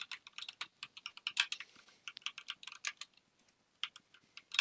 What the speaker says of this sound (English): I can hear your keys typing